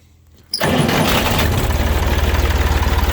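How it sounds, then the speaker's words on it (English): A 1965 Massey Ferguson 203 tractor fitted with a front bucket loader and backhoe cranks and catches after a short quiet moment, then settles into a loud, close, steadily pulsing idle. "Fires right up every time."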